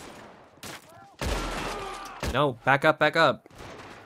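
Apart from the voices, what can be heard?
gunfire in a gang shootout, video game Red Dead Redemption 2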